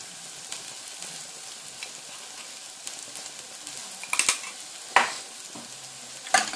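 Bread frying gently in oil with a spoonful of paprika over very low heat for Castilian garlic soup, a faint steady sizzle broken by several scraping stirs of a spoon against the pan, no talk.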